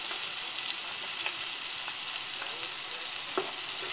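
Onion and bell pepper fry in a pan with a steady, even sizzle and faint scattered crackles, no voices.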